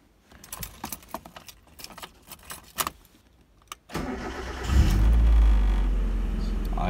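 Keys jangle briefly before a 1994 Mazda Miata with a 1.8 engine cranks and fires on a cold start, settling into a loud, steady idle close by.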